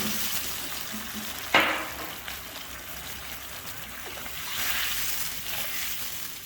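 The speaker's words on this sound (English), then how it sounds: "Now add water." Water poured into a pan of sautéed carrots, celery and black pepper: a sharp splash, then steady bubbling and sizzling that swells again toward the end, with no talking.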